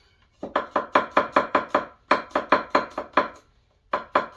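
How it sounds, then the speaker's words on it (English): A knife chops garlic on a cutting board in quick, even strokes, loud and close. The strokes come in three bursts with short pauses between them, and no voices are heard. "I'm going to chop it up fine"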